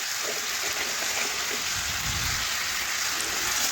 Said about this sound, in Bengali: না ঢাকা দিয়েই দেখুন একটু কষে নেব।